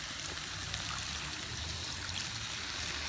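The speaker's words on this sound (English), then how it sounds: "And now we're gonna add our stock" Chicken stock pours into a pot of Guyanese Spanish rice with chicken, a steady soft liquid trickle and splash that runs continuously and fairly quietly throughout.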